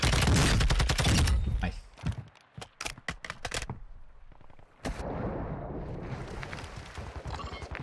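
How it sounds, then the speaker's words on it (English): Gunfire in Warzone 2, beginning with a dense, loud fusillade, then sharp separate shots in a quick uneven burst, followed by a steady rumble of more distant firing. "Guy there, guy shooting."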